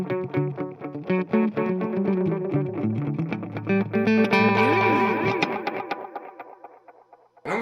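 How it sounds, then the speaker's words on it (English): Electric guitar through a Fender effects pedal with a reverb-like setting, playing dense overlapping notes that ring out and smear together into a sustained wash before cutting off, loud and close. "It almost gives it like a reverb kind of."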